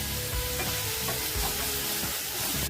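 Crushed black pepper frying in a hot pan while buttermilk curry is made, a dense continuous sizzle with light stirring scrapes, close and steady with no voices.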